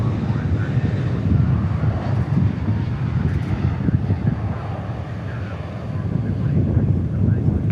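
A Boeing 787 Dreamliner bound for Frankfurt roars steadily at an airport, a continuous broadband engine rumble with wind buffeting the microphone throughout, fairly loud and sustained across the whole stretch.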